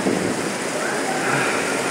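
A heavy rain downpour in Yakutsk roars as a dense, steady wash of noise with no breaks.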